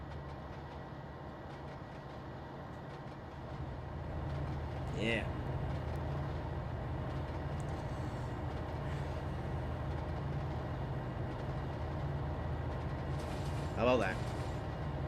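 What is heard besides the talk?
freight train with ES44AC engine in the video game Trainz Simulator 2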